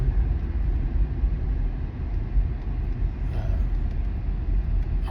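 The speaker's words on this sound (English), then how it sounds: "I'm actually just pulling through the parking lot to check out my little area lake right here." A car rolls through a parking lot near a small lake, its interior cabin rumble low and steady with road noise, continuous and without speech.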